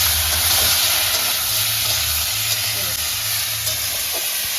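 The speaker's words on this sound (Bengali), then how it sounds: "বড়িটাকে মা আগে ভেজে নিচ্ছে।" Bori lentil dumplings fry in a pan in a home kitchen, a steady close hiss and sizzle with a low rumble underneath and faint occasional clicks.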